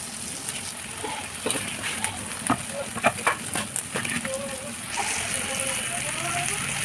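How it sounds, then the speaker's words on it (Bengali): Onions with turmeric and salt fry in a wok for duck curry, a constant loud sizzle broken by quick scraping and clinking strokes of stirring, settling into an even hiss at the end. "পেঁয়াজগুলো ভালো মতো ভাজা হয়ে গেছে।"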